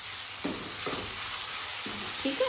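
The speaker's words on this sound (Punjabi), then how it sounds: "ਮੈਂ ਲਸਣ ਤੇ ਅਦਰਕ ਜਿਹੜਾ ਇਹ ਦੋਨੋਂ ਨਾਲ ਹੀ ਪਾ ਦੂੰਗੀ ਇਹ ਇਹਨਾਂ ਦੇ ਨਾਲ ਹੀ ਭੱਜ ਜਾਣਗੇ" Garlic and ginger frying in a pan alongside onion, a steady sizzle broken by a few scraping stirs, close and without speech.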